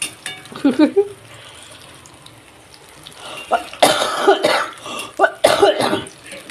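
Several harsh coughs in bursts, close by, with quieter background noise between them and a sizzling, frying sound underneath.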